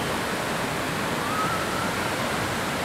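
Reggae Falls in St. Thomas, Jamaica, with water running out of rock, gives a steady, broadband rush of falling water, even and unbroken throughout.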